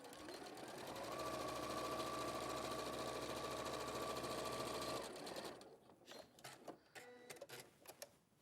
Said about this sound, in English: So we're going to sew that wrong sides to wrong sides in half